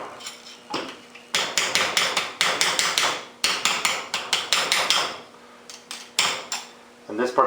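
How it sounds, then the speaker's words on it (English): Hammer blows on a plain steel rod driving brackets out of a Wilton vise: rapid clusters of sharp, loud metallic strikes in several bursts, close up, with brief pauses between runs. "Driving out these brackets was much easier than I thought, using a plain rod and hammer."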